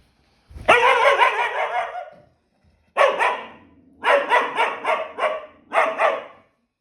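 A dog that acts aggressively toward guests barks and growls in a home, first a long harsh growling bark, then several short bursts of loud, close barking with brief gaps between them.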